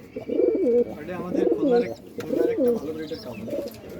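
High-flyer pigeons, including older birds, cooing close by at a pigeon farm in Jessore, in rhythmic, throaty rolling phrases, repeated several times with brief gaps between.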